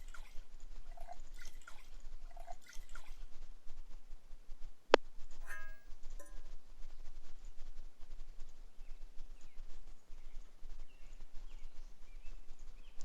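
Soft dripping and watery trickling from water being purified over a fire in the video game NEO Scavenger, quiet and steady over a low hiss, with one brief click partway through.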